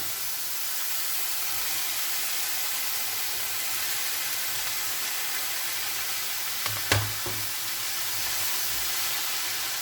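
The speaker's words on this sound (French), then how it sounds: "ma viande commence à être saisie. Je vais y rajouter mes champignons" Meat and mushrooms sear in a hot pan, giving a steady, even sizzle and hiss throughout, with a brief clack of a utensil against the pan near the end.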